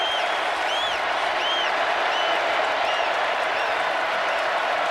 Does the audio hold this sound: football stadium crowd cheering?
yes